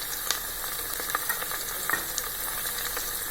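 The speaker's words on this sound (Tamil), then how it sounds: "இப்போ நீங்கள் வதங்கட்டுங்க. பூண்டு போட்டுடலாம்." Garlic sautéing in a pan for a Tamil kuzhambu curry, a steady close sizzle and frying crackle with a few soft stirring taps, no voices.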